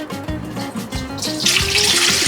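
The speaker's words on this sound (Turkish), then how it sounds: "Önce suyumuzu koyduk." Water pours steadily into a jar while making Turkish tomato pickle, a close, continuous splashing that grows into a brighter, hissing gush near the end, with no talking.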